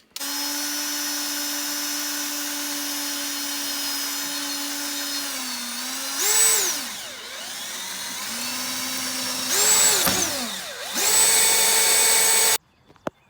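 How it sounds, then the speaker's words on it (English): A power drill whines steadily as it bores holes in square steel tubing for motor mounts on a Razor dirt bike gas conversion. The pitch dips and rises twice as the bit bites through, then the drill stops abruptly. "then we're going to drill the holes for the motor mounts"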